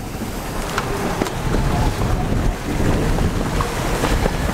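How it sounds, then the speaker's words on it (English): Strong wind roars across the microphone aboard a sailboat at sea, a continuous gusty rush mixed with sloshing waves, loud and unbroken throughout. "although the winds are picking up a bit"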